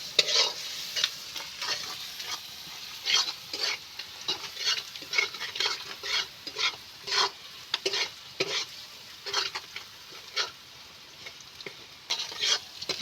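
Ground spices of salt, turmeric and chilli are stirred and fried in a pan, producing rhythmic scraping strokes about twice a second over a low oily sizzle, close and fairly loud.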